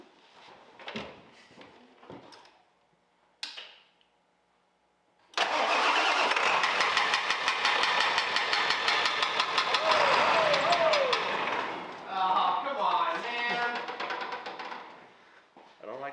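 A few clanks and thuds, then a large 7.3-litre diesel engine in an OBS truck cranks and rumbles into a loud, steady idle that settles lower near the end.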